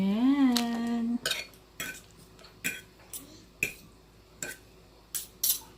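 Fried instant noodles, Me Goreng, being mixed in a bowl with a utensil, giving a series of separate scraping clinks and soft wet clatters at a fairly even pace, close by, after a brief vocal sound at the start.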